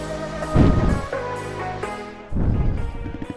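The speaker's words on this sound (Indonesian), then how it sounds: "Untuk suara knalpotnya ya seperti ini, coba." A Yamaha R15 motorcycle fitted with an aftermarket Levin exhaust revs up close by in two strong bursts, the throaty, harmonic exhaust note swelling and then settling back between them.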